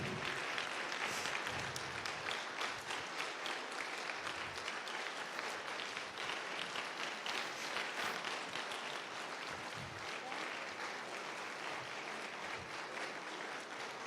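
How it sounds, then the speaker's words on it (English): Sustained applause from a sizable town hall audience in Boston, dense and steady throughout, fairly loud with faint voices mixed in. "Please give them a round of applause."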